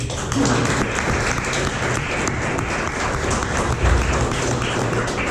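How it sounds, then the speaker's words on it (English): Steady applause from a conference audience closing a cybersecurity panel, a continuous clatter of many hands holding level throughout with a few sharper claps standing out. "Let's give it a round of applause, please"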